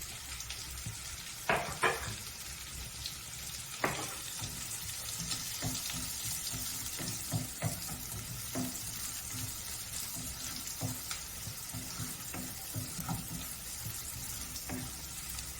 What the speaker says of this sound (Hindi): आप देख रहे हैं प्याज हल्की ब्राउन हो चुकी है।